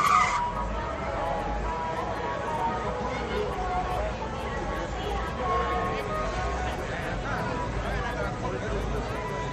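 A Corvette and a Camaro race side by side at a Friday night street car event, tires squealing and engines roaring continuously amid crowd chatter and commentary.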